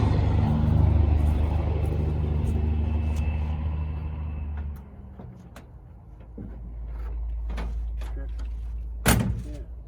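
A 1958 Chevy two-door shuts its door with a close thump over a deep idling rumble that fades out, then a few sharp knocks follow and voices talk nearby.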